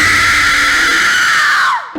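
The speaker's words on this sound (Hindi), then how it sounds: "उन तीनों ने जो नजारा देखा, वो देख सुनीता की चीख निकल गई" A woman's high, piercing scream of fright serves as a sound effect in an animated horror story, one loud sustained shriek lasting nearly two seconds before it cuts off abruptly.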